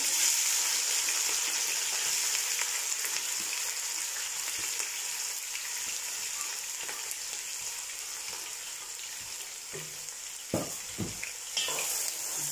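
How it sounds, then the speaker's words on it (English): Onions frying in vegetable oil in a pot for Ivorian acheke, a loud continuous hissing sizzle up close, with a few clinks and scrapes of stirring toward the end and no talk. "Firstly, I will be adding my onion to the oil."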